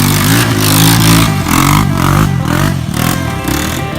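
LB7 Duramax diesel engine swapped into a third-generation Camaro, revving hard and loud in repeated pulses with a rough, rattling clatter, heard up close and alone.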